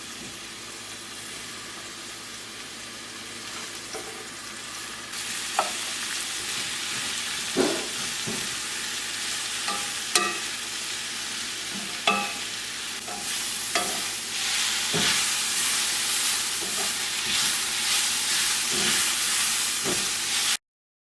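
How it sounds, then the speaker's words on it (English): Sliced onions fry in a little oil while being stirred, giving a steady close sizzle that grows brighter partway through, broken by sharp scraping knocks of the spoon against the pan. "we need to fry them in a little bit of oil around about 5 or 6 minutes until they're soft"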